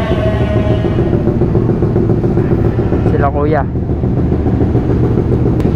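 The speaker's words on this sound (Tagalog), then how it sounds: "Ito yung motor natin, pinapainit." A Suzuki Raider 150 fuel-injected motorcycle idles steadily as its engine warms up, a continuous close rumble running throughout while a person speaks briefly over it.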